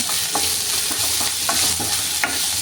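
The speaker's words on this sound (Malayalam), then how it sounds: "ആദ്യം നമുക്ക് അര സ്പൂണ് മഞ്ഞൾപ്പൊടി ഇടാം ഇത് നന്നായിട്ടൊന്ന് മൂത്തട്ടെ" Turmeric powder frying in oil in a pan while being stirred: a loud, continuous sizzle up close, broken by regular spatula scrapes and taps roughly every half second, with no talking.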